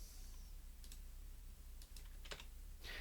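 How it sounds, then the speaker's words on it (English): Faint clicks of keys pressed on a computer keyboard during schematic design work, a few soft separate taps over quiet room noise. "I'm going to click N on my keyboard to go to name and name this GP15."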